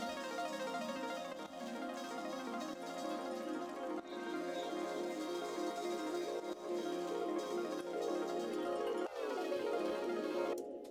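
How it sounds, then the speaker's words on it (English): A dense, continuous ambient texture built from layered samples of found and recorded sounds hums along with a steady, shimmering tonal bed. Near the end a soft swell marks a change. The sound is quiet and alone throughout, with no voices. "there's this group of layered samples from different places,"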